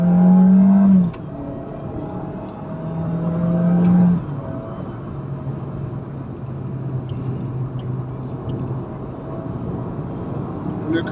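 The engine of a 2022 Suzuki Swift Sport hums steadily from inside the car, with brief rising engine tones early on, then a continuous road-and-engine drone.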